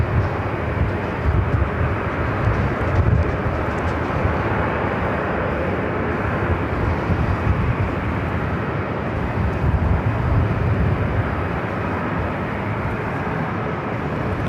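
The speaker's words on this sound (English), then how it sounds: "Next arrival is United Airlines Flight 1719 coming in from Vegas, 737-800" A United Airlines Boeing 737-800 jet arrives at LAX. A loud, steady engine roar fills the whole stretch and holds level without a break.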